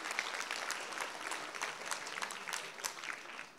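Audience applause fills a school Christmas concert hall, a steady patter of many hands clapping at moderate distance, fairly quiet overall, with a slight fade at the end.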